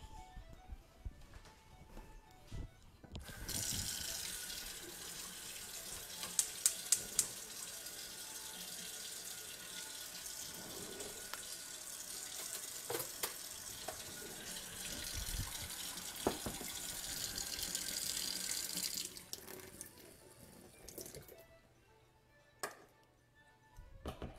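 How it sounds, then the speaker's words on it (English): Hot water runs steadily from a kitchen tap for about sixteen seconds while brownie batter is being made, a loud, even rush that stops abruptly, with a few light clinks near the start and quiet room sound before and after. "a tablespoon of the hottest tap water"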